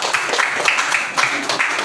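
Classroom applause for a student group after its presentation: a short burst of many hands clapping, fairly loud and steady, with no talking over it.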